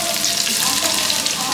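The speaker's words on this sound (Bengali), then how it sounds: "তেল গরম হয়ে গেছে, এবার পেঁয়াজ দিয়ে দিচ্ছি।" Onions frying in hot white oil for a chicken curry, a dense close sizzle that holds steady throughout, with light crackling and no speech.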